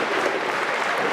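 A wrestling crowd at a live event cheers and applauds steadily, dense sustained clapping filling the arena with no break.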